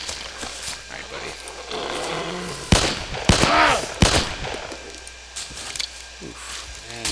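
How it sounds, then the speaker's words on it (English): Pistol shots in the DayZ survival game crack out as a few sharp, close reports clustered in the middle, standing above a quieter background of movement and game ambience. "I want to use the pistol in this situation just because it's not as loud"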